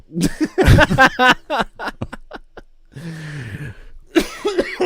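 A burst of harsh, choking coughs comes in quick succession, loud and close, then a rough throaty sputter before a voice resumes.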